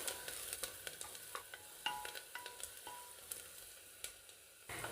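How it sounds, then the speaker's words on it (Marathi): Sliced onion and turmeric sizzle in hot oil in a pan for mutton sukka, with a soft steady frying hiss broken by scattered scrapes and taps of a spoon stirring, no voices. "कांद्यासोबतच तेलात हळद थोडी परतून घेऊ"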